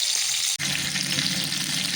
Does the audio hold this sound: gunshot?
no